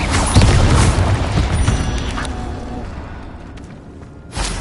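The Incendio fire spell cast in Hogwarts Legacy: a loud whooshing burst of flame and booming impact that fades over a few seconds before a second whoosh flares at the end.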